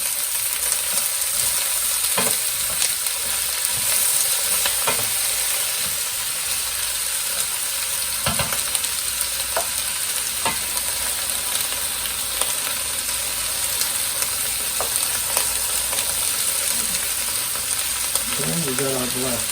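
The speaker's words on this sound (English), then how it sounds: "Now we'll add all our scallop potatoes" Scalloped potatoes frying in a pan over medium heat, a steady broad sizzle with occasional sharper crackles and stirring scrapes throughout, faint voice at the very end.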